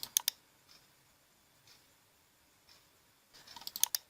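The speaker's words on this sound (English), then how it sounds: "and clicking on confirm." Mouse clicks on a Windows 10 download page come in a sharp pair at the start and a quick cluster near the end, with a few soft isolated taps between in a quiet room.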